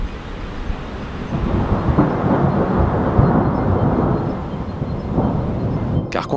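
Thunder from a thunderstorm during winter storm Ciaran rolls and rumbles for several seconds, a loud, sustained low growl with a sharper crack near the end.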